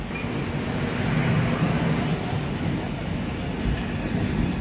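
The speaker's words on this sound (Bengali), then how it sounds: "এই আমাদের ট্রেন ছেড়ে চলে যাচ্ছে" A train pulls away from the station at Prantik near Bolpur. It gives a continuous low rumble and a steady rolling roar with faint rhythmic clatter, heard up close.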